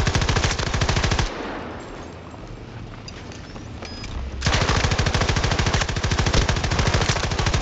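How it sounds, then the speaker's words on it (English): Light machine gun fire in the video game Battlefield 2042 rattles in long, rapid automatic bursts, loud and close, with a quieter pause of ambient battle noise in the middle before the firing resumes. "Good old LMG just wipes them out."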